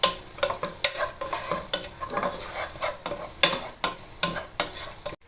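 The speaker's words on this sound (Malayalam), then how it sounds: "ഇനി നമ്മളൊന്ന് ഇളക്കി കൊടുക്കുകയാണ്" A curry of drumsticks, lentils and dried prawns is stirred in a pan, with a spoon scraping and knocking in irregular strokes over a continuous sizzle. Loud and close, with no talking.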